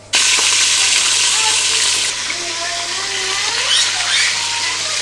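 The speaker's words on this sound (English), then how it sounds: "So you can see I'm only frying half of the fish." Fish fries in smoking-hot oil for a fish stew, a loud steady sizzle that starts abruptly and stays dense throughout, easing slightly partway.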